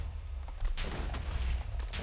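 An explosion in the video game Starlight bursts out as a string of sharp, crackling booms with a deep rumble underneath, loud and close, with no talking over it.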